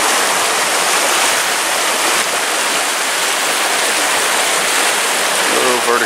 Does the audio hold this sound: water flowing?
yes